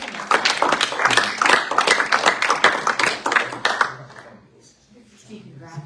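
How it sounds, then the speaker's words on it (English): A small group claps together at a graduation, a close, lively patter of individual hands lasting several seconds before fading out. Quiet voices murmur as the clapping stops. "We'll clap one more time."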